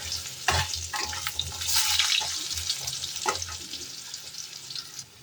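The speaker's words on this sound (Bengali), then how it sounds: "আলুগুলো হালকা করে ভেজে নেব।" Potatoes lightly frying in a pan for an aloo paneer pulao, a bright continuous sizzle with intermittent stirring scrapes and clinks, close and fairly loud, with no voices.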